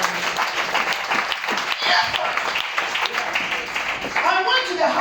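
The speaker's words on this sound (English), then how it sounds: "clap your hands for her" Church congregation clapping hands in a dense, continuous patter of many claps, with voices talking and calling out over it throughout.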